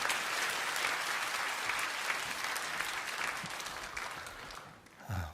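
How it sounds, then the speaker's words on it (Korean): Congregation applause during a Sunday worship service at a Korean church, a broad, even patter of many hands clapping at a moderate distance, fading near the end before a brief low thump. "우리 귀한 목사님 보내주신 하나님께 감사의 박수 올려드리며 목사님 맞이하겠습니다."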